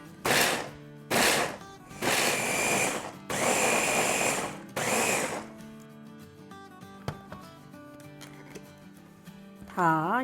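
Five loud, roughly one-second bursts of an electric grinder coarsely milling cooked, cooled chana dal, with short pauses between them, then a quieter stretch of faint kitchen noise and a brief tonal sound at the end.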